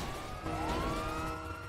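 A police car siren wails in a video game, its rising electronic tone sweeping upward over steady traffic and engine noise, loud and close with no talk.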